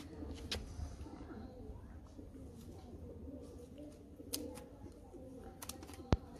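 Soft cooing of caught pigeons sits in a quiet room as their wing feathers are cut, with occasional sharp clicks and taps and a low murmur in the background.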